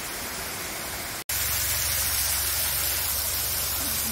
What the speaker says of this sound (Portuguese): Aí tem que passar por trás da cachoeira pra ir daí pra cachoeira Bela Vista.